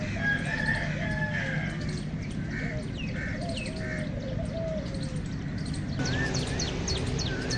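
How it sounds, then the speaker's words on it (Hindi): Birds in a park enclosure at an old polo ground in Karachi, with ducks and fowl among them: a steady mix of chirps, calls and crowing-like cries, fairly close, over constant outdoor background noise. "यहाँ भी कुछ बत्तखें वगैरह हैं ये"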